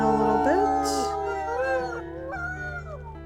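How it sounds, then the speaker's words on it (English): Wolf howls in the video game WolfQuest, several high, squeaky wavering howls rising and falling in overlapping lines, fairly close, over a steady low game hum. "I'm hearing another squeaky howl"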